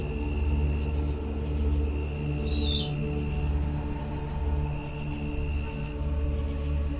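Crickets chirp in a steady, pulsing rhythm against a low nighttime hum in an abandoned old Christian graveyard, continuous and moderately loud throughout.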